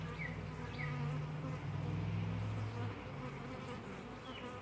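Honeybees buzz continuously around a beehive in Santa Rosa, a dense close swarm hum with faint higher whines from individual bees passing.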